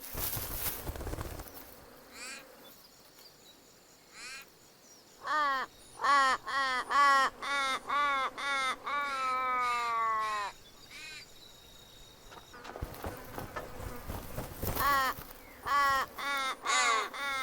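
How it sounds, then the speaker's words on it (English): Ravens caw harshly and repeatedly around a young eagle feeding, loud rasping calls in rapid bursts, some overlapping, with a brief gap before the racket resumes. "As the young eagle chows down, the ravens rave, and the ruckus only broadcasts their secret."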